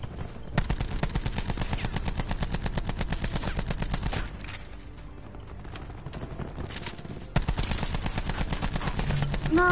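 Rapid automatic gunfire in a first-person shooter video game rattles in dense bursts, pausing briefly in the middle before resuming loud and sustained, with faint game effects underneath.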